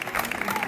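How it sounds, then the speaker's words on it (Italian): Audience applauding the musicians at a flower-contest award ceremony in Pescasseroli, a brief, even burst of many hands clapping. "Applauso a voi."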